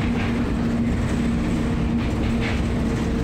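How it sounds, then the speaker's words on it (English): Monorail train built for a World's Fair, running and turning on its elevated track: a steady loud rumble with a constant motor hum and faint rail clatter, heard from inside the car, with no talk. "So this monorail was built for the World's Fair"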